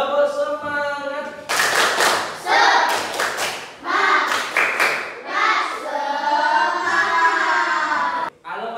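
A school class claps together in a rhythmic cheer pattern, bursts of hand claps alternating with voices chanting along between them.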